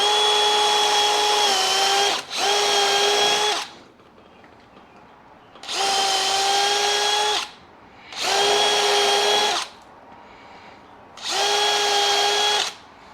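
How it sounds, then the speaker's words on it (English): A power drill bores two mounting holes into a wooden trailer bunk on a jon boat trailer, with four loud, steady whining bursts of a few seconds each separated by short pauses. "let's drill our 2 mounting holes here"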